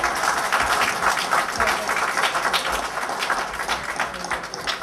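Steady audience applause at a diaspora question-and-answer event with a president, many hands clapping in a dense continuous wash, moderately loud throughout with no speech over it.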